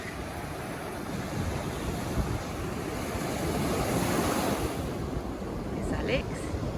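Surf rolls in at Freshwater Beach on the Pembrokeshire coast, a continuous broadband wash of breaking waves with wind buffeting the microphone, swelling slightly midway.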